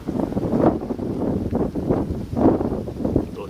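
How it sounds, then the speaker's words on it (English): Gusts of wind buffet an outdoor microphone in steady low rumbling surges, swelling louder near the middle and end with no one talking. "Little gust of thermals there."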